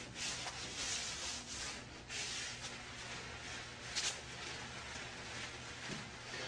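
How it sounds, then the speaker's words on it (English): Close, continuous scrubbing of epoxy grout haze off tile with a pad, rough rhythmic rubbing strokes that swell and ease, with no voices. "You want to scrub it until you feel it break completely loose from the surface."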